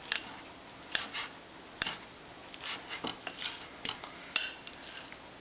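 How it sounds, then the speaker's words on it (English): A fork lightly mashes soft food in a bowl, giving a series of small metallic clicks and scrapes against the dish at an irregular pace, close and fairly quiet. "you can mash it lightly with a fork"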